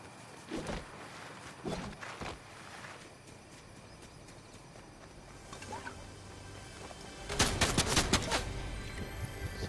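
Gunfire in the Fortnite video game during a Duos match: a few scattered shots early on, then a louder burst of rapid shots near the end, set against a quiet ambient background.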